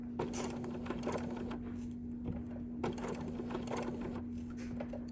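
A domestic sewing machine stitches slowly on a Dresden pillow, giving a few soft, spaced mechanical clicks over a steady low hum while the presser foot is raised by knee lever for pivoting.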